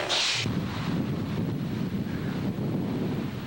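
Steady wind buffets the microphone with low rumbling gusts outdoors at Abbotsford, Scotland, a brief hiss at the start, and no voices throughout.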